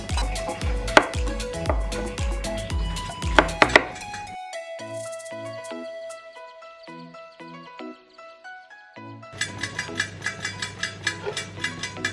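A knife chops vegetables for a stew on a cutting board in rapid, loud strokes, then pauses while music plays alone, then returns to a fast rhythmic chopping.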